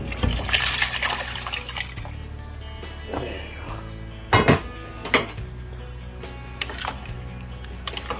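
Canned tomato goes into a pot of simmering beef minestrone soup with bones, giving a few clinking and sloshing bursts of liquid and metal against a steady low kitchen hum, with a sharper cluster of knocks partway through.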